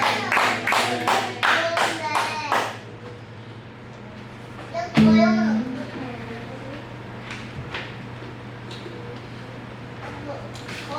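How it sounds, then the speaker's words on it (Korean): Congregation clapping together in a church worship service, a burst of dense claps for the first few seconds that then stops, followed by quieter room sounds and a brief tone. "우리 하나님 아버지께 감사의 박수 주님 올려드립니다."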